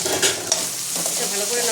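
Spiced samosa filling being stirred in a hot pan, close scraping strokes of a spoon over a constant loud sizzle.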